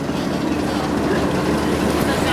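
A garden tour tram rolls along with a steady low rumble and rattling hum, a continuous close vehicle drone with a voice faintly audible over it.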